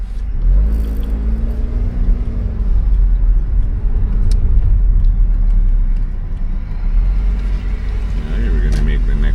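A car pulls away from a complete stop on a Florida driving test: a steady close engine rumble and road noise with a rising whir of acceleration, and people talking over it.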